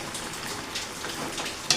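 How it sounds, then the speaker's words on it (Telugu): Constant hiss of heavy rain falling, a dense steady patter close by, with no talking. "ఫుల్ వర్షం అయితే పడుతుంది"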